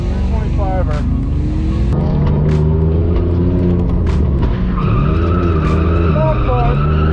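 A BMW E46 325i street drift car skids loud and close, with engine revving and tire noise running throughout and talk over it.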